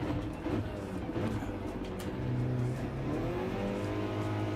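In Gran Turismo 7, a race car launches at the race start with a steady, rising engine drone and revving among other cars, a dense, moderately loud mechanical roar without talk.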